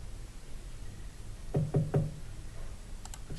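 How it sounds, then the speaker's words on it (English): A door knock sound effect: three quick, evenly spaced raps on a wooden door, crisp and close, followed by a couple of faint light taps amid a quiet background. "Maybe a door knock."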